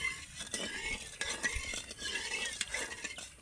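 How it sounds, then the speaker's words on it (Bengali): A spoon stirs watermelon juice in a container to dissolve sugar, giving a series of soft scraping and clinking strokes in an irregular rhythm, close by and fairly quiet, with no talking. "আমি জুসটাকে ভালো করে এইভাবে নাড়তে থাকবো যাতে চিনিটা খুব তাড়াতাড়ি গলে যায়"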